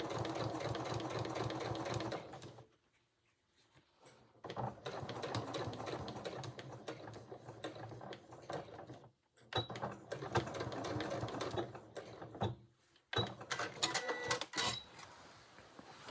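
A sewing machine stitches a jacket seam in several fast, rattling runs separated by short pauses, close and clear with no talking.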